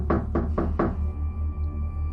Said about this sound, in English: the banging started again